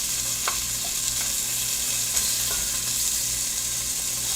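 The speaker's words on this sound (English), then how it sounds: "Just to give it that flash sear" Lamb pieces flash-searing in a hot pan, a loud continuous sizzle with a few sharp scrapes and clicks of stirring or turning the meat, no talking.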